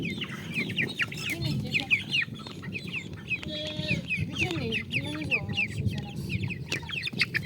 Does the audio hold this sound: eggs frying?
no